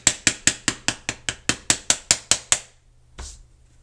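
A stencil pounce pad of blue powder being pounded, about a dozen quick, evenly spaced sharp taps in a row, close and crisp, then a pause and one softer thump.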